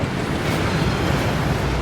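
Water rushes from a waterfall in Hogwarts Legacy, a loud, steady broadband roar with no pause or other sound on top.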